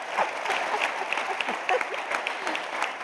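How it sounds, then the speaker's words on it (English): Applause from an audience at a breakfast charity event, a dense patter of many hands clapping steadily for several seconds, moderately loud and fairly close, with no talk over it. "Give them a round of applause."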